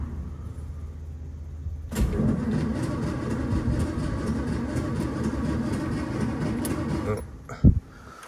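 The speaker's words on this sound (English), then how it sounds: "the engine sound is pretty decent" An old Daimler limousine engine, abandoned for 32 years, fires up after a quiet start and runs with a steady, loud, rough mechanical rumble for several seconds before a brief louder knock near the end.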